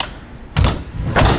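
A house's front door opening indoors, two short thumping bursts about half a second apart, moderately loud in a quiet room.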